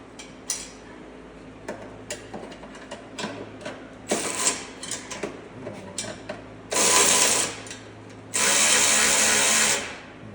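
Wrench and ratchet work on an Audi TT: scattered close metallic clinks and taps, then two sustained bursts of loud, rasping ratchet or power-tool noise, each lasting about a second and a half.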